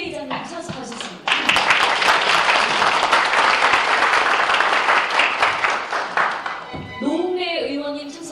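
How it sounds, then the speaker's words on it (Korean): An audience at a Korean disaster-relief policy forum claps loudly in welcome as guests are introduced, a thick burst of applause lasting about five seconds before fading, with a speaker's voice heard before and after. "힘찬 환영의 박수 부탁드립니다"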